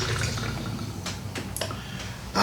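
Liquor poured from a bottle held by the neck through a metal pour spout at a home bar, a steady, soft trickling stream that ends in a louder splash.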